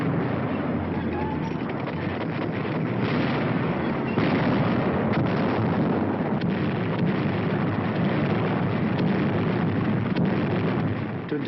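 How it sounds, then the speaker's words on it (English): B-17 Flying Fortress heavy bombers raiding industrial targets in Germany in 1943: a continuous dense roar of engines and rumbling explosions, loud and unbroken throughout, with a muffled old-film-recording quality. "heavy bombers roar out over the heads of the advancing ground forces, blasting away systematically at vital industrial"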